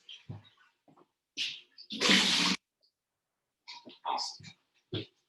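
Liquid poured out of a bowl during a kimchi-making workshop: a single splashy, half-second gush, close and loud, set between short bursts of conversation.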